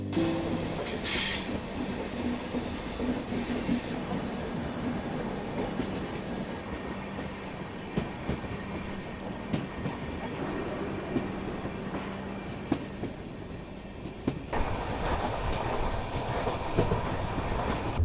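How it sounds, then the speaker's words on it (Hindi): Passenger train on the Sikkim Mahananda route running steadily on its rails, a continuous rumble with scattered clicks and wheel noise, close and loud throughout, with no talking. "ये वही ट्रेन है और आज भी ये ट्रेन करीब 2 घंटे लेट चल रही है"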